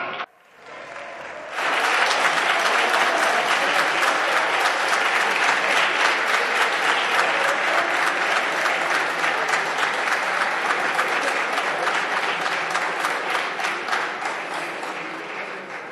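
Deputies in the Spanish Congress applaud in a dense, sustained burst that starts abruptly after a short murmur and carries on loudly for many seconds at an even level.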